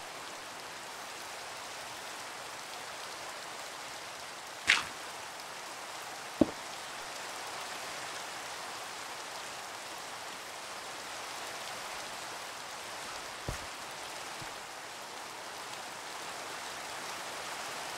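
Steady rain falling in the Minecraft video game, an even hiss of downpour throughout with a few brief sharp clicks standing out, no talking.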